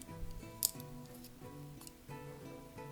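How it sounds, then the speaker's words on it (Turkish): The spring-loaded scissors of a Leatherman Wave Plus multi-tool open with one brief, sharp metallic click, heard close over soft background music. "Makası hemen şu şekilde aktif edebiliyorsunuz. Yaylı bir makas."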